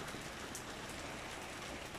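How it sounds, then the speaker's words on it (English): Heavy daytime rainfall pours down without a break, a dense steady hiss of drops on surfaces, faint and distant, with no voices. "Come look at the rain."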